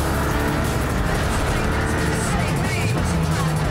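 Cars race in the video game Cyberpunk, engines roaring loudly and continuously with revving and shifting pitch, tires squealing now and then, under a steady wash of motor noise.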